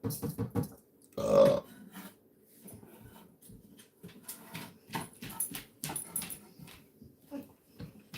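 A dog gives one loud, close bark-like burst, then a run of softer whimpers and yips that come and go in short bursts against a quiet room.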